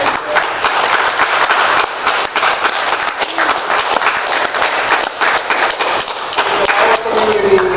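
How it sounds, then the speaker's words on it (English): An audience at a LAUSD District 1 candidates forum gives a round of applause, with many hands clapping in a dense, steady patter that carries on for several seconds. "A round of applause for"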